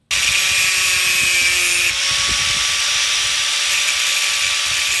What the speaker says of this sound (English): we are going to do the naughty thing and shorten that shaft with good old Mr. Grinder.